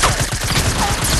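Fortnite SMG fire rattles out in dense, rapid bursts, loud and close, running almost without pause through the whole moment.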